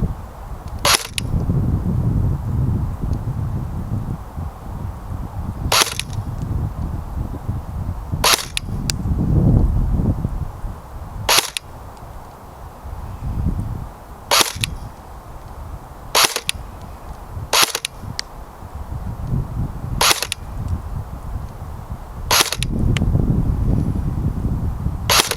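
Airsoft gun fitted with a Madbull 6.03 aluminum barrel, fired outdoors: ten sharp single shots spaced a couple of seconds apart over steady low wind and handling noise.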